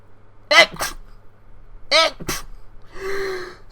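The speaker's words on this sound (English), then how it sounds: "I stopped myself from sneezing. I only choked." A person sharply gasps twice in quick bursts as a sneeze is held back, then a strained, choking splutter follows, close and loud, with short vocal yelps in between.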